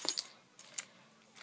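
Keys jangling as they are pulled from a Louis Vuitton Speedy 40 handbag: a few quick, light metallic clinking bursts, close and fairly quiet, separated by short pauses with no voice over them.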